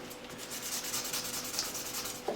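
Fine 600-grit sandpaper rubs over a briar wood tobacco pipe in quick, even back-and-forth strokes, a soft, close, rhythmic scratching with no voices.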